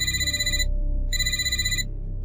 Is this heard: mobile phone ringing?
yes